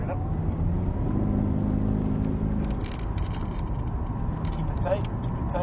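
A Cadillac CTS-V Coupe accelerating on the Circuit of the Americas race track: a steady, rumbling engine drone runs throughout, with a person talking over it.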